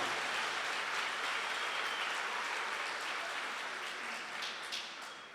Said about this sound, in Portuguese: Uma salva de palmas para esse dom.